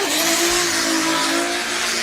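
BMW drift car at a Drift France event, its engine holding a loud sustained rev with a steady high whine, tire noise blended in throughout, close and continuous for about two seconds.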